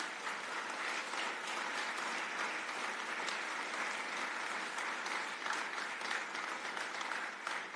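Sustained applause from an audience at a mediation federation's first congress, a steady dense wash of clapping with no voices.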